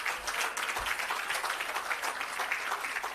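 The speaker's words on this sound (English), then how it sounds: "Please give her another round of applause." An audience applauds at an outdoor ceremony commissioning the Parnassus irrigation system and agro park, with steady, fairly faint clapping from a crowd throughout.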